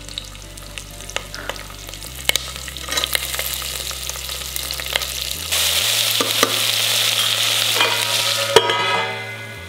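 Khichdi with onions frying in a pan, a steady close sizzle with scattered stirring clicks and scrapes, growing louder and denser in the second half before easing off at the end.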